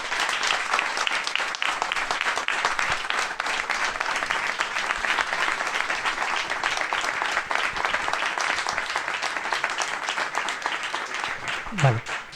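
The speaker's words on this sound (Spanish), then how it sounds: "Así que pido un aplauso para los 4." A crowd applauds steadily and warmly at a talk, a dense wash of clapping that stays even before tapering slightly at the end.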